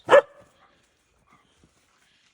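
A single sharp dog bark up close, followed by near silence with a couple of faint soft sounds.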